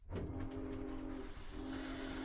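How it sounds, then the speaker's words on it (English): A train pulls away from a halt in the video game Project Eden's Garden, with a steady loud rumble of wheels and a sustained humming whistle tone, briefly dipping before resuming, no voices. "the train continued from its halt"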